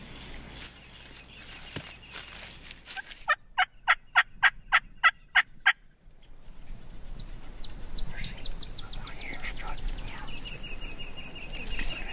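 A wild turkey gobbles during a Texas turkey hunt, a loud, close rattling burst of rapid pulses standing clearly above the outdoor background, followed by fainter, more distant bird calls, with no talking.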